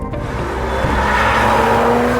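An Aston Martin DB11 grand tourer drives past with a loud, close engine note that builds steadily, a sustained low rumble with a rising tonal whine and rushing road noise.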